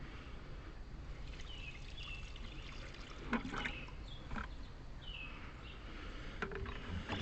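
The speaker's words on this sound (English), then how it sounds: "I'll just pour the rest of that on there so they can continue to fertilize." Liquid fertilizer poured from a container onto marigolds and other garden plants, a soft continuous trickle and splash close by under steady outdoor background noise.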